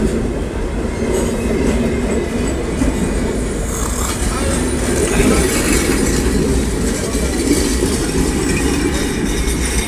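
A train on the Thakurgaon line rolling past a rail crossing, a loud, dense, steady roar of wheels and carriages with some metallic squeal, heard close up for the whole stretch.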